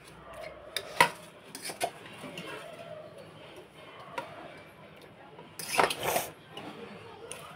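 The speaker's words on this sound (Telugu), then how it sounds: "ఇలా మనం మ్యాగీ వేసుకొని దీన్ని బాగా కలుపుకుందాం." Maggi noodles being stirred in a pan: a few scattered scrapes and light metallic clinks of a utensil against the pan, fairly quiet, with short pauses between them.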